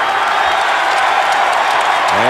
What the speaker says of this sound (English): That would be a big round of applause right now